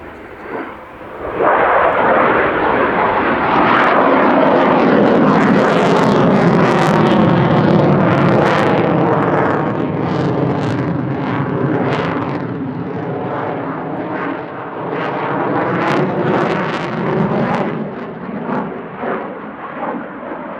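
A Belgian F-16 fighter jet makes a loud, sustained roar during a flying display at RIAT 2017, the engine rumble swelling and shifting as it passes close overhead, with no speech.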